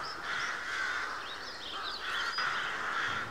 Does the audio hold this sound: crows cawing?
yes